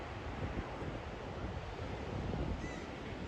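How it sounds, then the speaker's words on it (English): Ocean waves crash and swish along the shore as the tide comes in, a steady broad wash of surf mixed with wind buffeting the microphone, with a faint bird call near the end. "the waves, as the tide comes in, they swish around, so you see the waves doing different things as they crash"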